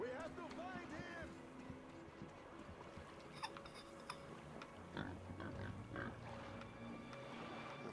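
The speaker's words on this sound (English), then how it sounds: "Of course, there's pigs." Pigs grunt in the video game Metro: Exodus with low, rough snorts, faint under a busy wash of game ambience and other background sounds.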